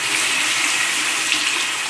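Tap water runs in a continuous bright, hissing stream to rinse out a menstrual cup, close and fairly loud with no voices.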